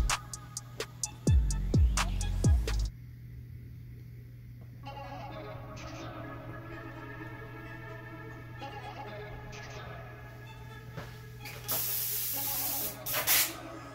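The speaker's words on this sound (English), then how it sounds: "I have my airbrush loaded with opaque white, and I'm going to do just a few little highlights here and there." An airbrush sprays opaque white paint onto a t-shirt in short hissing bursts for freehand highlights, with brief spurts early on and a steady hiss later, close and fairly loud.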